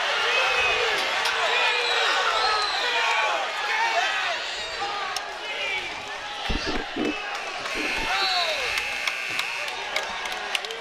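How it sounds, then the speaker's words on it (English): Dense arena crowd at a college dual wrestling meet between UVU and the Oklahoma Sooners, a continuous loud roar of voices with shouts and whistles rising in reaction to a referee's call, with scattered sharp thuds beneath. "The crowd doesn't like that call."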